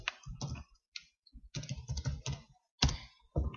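Keyboard typing at a computer while entering a Matlab command, several quick bursts of key clicks in short runs separated by brief pauses, fairly close and clear.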